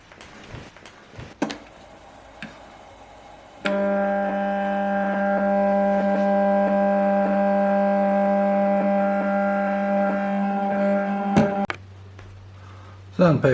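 Small electric motor on a DIY welding rotator whirs with a steady tonal hum for about eight seconds, close and moderate, framed by brief handling clatter and a low hum at the end.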